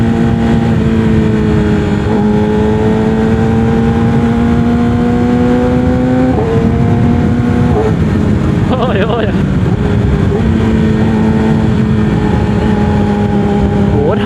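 A Yamaha R6 sport motorcycle roars at speed on a day ride in Sakon Nakhon, its engine note steady and loud with brief pitch dips at gear shifts, under heavy wind rush and a voice talking.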